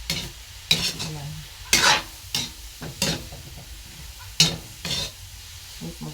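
Water spinach and bamboo shoots sizzle softly in an oil-free pan while a utensil stirs and scrapes in irregular bursts, a few sharp clanks standing out.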